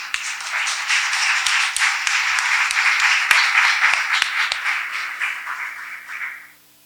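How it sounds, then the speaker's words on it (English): An audience at an academic awards ceremony claps for an honoree, a steady, fairly loud patter of many hands with distinct sharp claps poking through before it stops abruptly. "Give him a clap."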